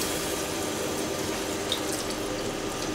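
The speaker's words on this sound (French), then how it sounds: "on peut rajouter un petit peu d'eau" Water running steadily into a cooking pot of tomato and white wine fish stew, a continuous close splashing pour with no talk over it.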